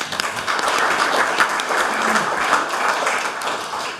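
Applause rings out for school competition winners at a council meeting: dense, continuous clapping from an indoor audience holds steady for a few seconds.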